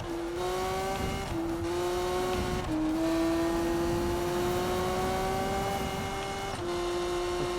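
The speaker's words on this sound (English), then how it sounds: "Damn, redline my engine and blow it the hell up." Car engine in a Need for Speed racing game held near redline, a loud sustained whine that climbs slowly with brief dips at gear changes, close and unbroken, with no one speaking.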